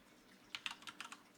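Quick burst of typing on a computer keyboard, about eight light, crisp key clicks in an irregular patter, close and fairly quiet.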